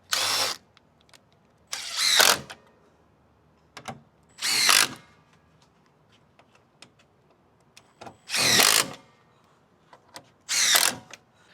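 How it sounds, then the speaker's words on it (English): A power drill drives bolts back into car trim during a windshield washer camera repair, in five or six short, loud whirring bursts separated by quiet pauses and small clicks. "Now we can go ahead and put the bolts back in."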